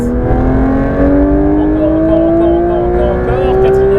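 Porsche 992 GT3 RS accelerating hard on a race circuit, its engine note climbing steadily in pitch as it pulls through the gear, loud and close from inside the car with a voice speaking over it.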